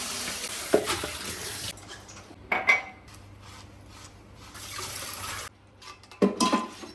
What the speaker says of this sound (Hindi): मैं फटाफट से लंच का जो भी बर्तन था वो मैं धो लेती हूँ